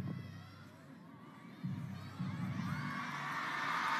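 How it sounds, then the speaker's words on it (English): Arena crowd at a women's singles table tennis match at WTT China Smash 2025, a steady murmur of spectators that swells louder partway through as anticipation builds before play begins. "the crowd eager to get this one underway. You can hear the noise growing"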